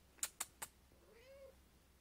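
A pet cat gives a single soft, rising meow right after three sharp clicks or taps, close and quiet in an indoor room.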